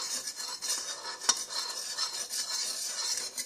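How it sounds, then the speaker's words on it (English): Homemade slime mixture being stirred in a container, a continuous soft wet swishing with rhythmic scraping strokes and one sharp clink, close and steady with no talking. "So that you just stir some of it up."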